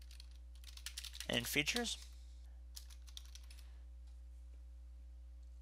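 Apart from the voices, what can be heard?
typing on a computer keyboard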